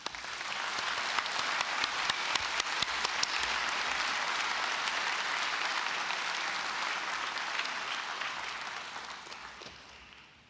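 Graduates are applauded at a Dublin City University autumn graduation ceremony, a long, steady wash of many hands clapping in a hall, with sharp individual claps standing out early on before it thins and fades at the end.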